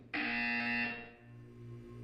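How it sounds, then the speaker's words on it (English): A single harsh electronic buzzer in Portal 2 blares abruptly for about a second, then cuts off, leaving a low background hum. "You will hear a buzzer."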